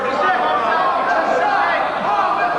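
Indoor wrestling crowd at a Homicide vs Ian Rotten match, a dense continuous murmur of many voices and chatter filling the room at even loudness, with no distinct announcer talk standing out.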